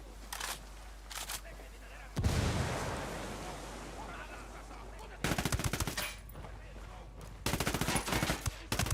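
Grenade blast in the tactical shooter Ghost Recon Wildlands: a loud, broad explosion bursts in around two seconds and rumbles on, with clusters of sharp gunfire-like cracks before and after it.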